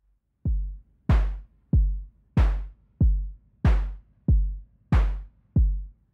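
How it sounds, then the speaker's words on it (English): A steady electronic drum pattern from a Vult drum synth module, alternating deep synthesized kicks with brighter, noisy snare hits, evenly spaced and alone, clock-triggered in VCV Rack. "For this simple example, I have a clock triggering a kick and a snare."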